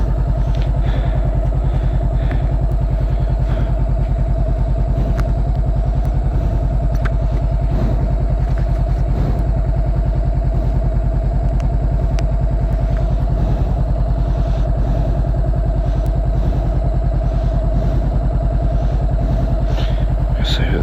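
A motorcycle ridden around town gives a steady, loud engine drone with constant wind rumble close up for about twenty seconds.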